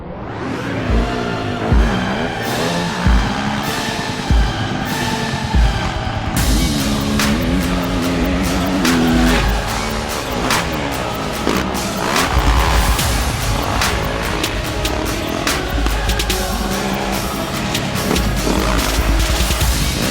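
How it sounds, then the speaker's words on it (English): Several 250F motocross bikes ride at Piru Motocross Park, their loud engines revving and wailing continuously up close, with throttle surges and overlapping bikes passing through the whole stretch. "We've assembled the 4 baddest 250F motocross bikes, and we brought them here to Piru Motocross Park"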